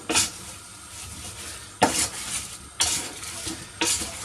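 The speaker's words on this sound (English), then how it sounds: "So just give this a mix up so everything's incorporated." Rhubarb crumble fruit mixture stirred in a pan, with soft wet scraping strokes and a few sharper clacks of the spoon against the pan at a slow, steady rhythm over a faint sizzle.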